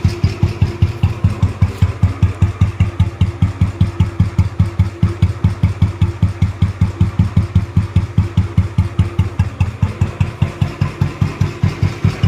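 Exhaust from the silencer of an old Royal Enfield Bullet motorcycle at idle, a loud, close, rapid and steady thumping pulse that continues without pause and has no voices over it.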